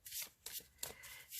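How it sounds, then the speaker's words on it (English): Stiff paper prompt cards being shuffled by hand in a quiet room, a few soft, quick riffling bursts close by. "Try and do some fancy shuffling."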